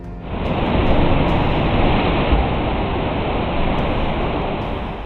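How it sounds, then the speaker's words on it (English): Waves crash and surge inside a sea cave, a continuous, loud roar of churning water that swells and ebbs slightly without pause. "One sea cave is known for its strange echoes, where crashing waves create haunting sounds."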